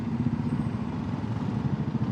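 An Aprilia RS 457 motorcycle engine runs with a steady, low, throaty rumble and faint mechanical clatter, held close and continuous for the whole stretch, with no one talking.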